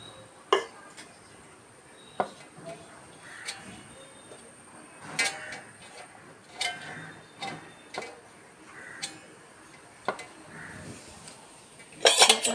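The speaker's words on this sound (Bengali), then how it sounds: "গরম ভাত, গরম গরম ভাত বেড়ে নিচ্ছি।" Hot rice being served onto a plate at home, with soft spoon and dish clinks scattered through a quiet, low-level background.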